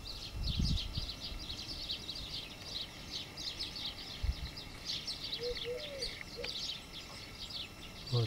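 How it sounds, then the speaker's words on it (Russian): Wild turtle doves calling outdoors beside a nest in windy weather, soft low cooing phrases heard a few times at moderate distance under busy chirping of other birds and wind rustle. "дикие голуби."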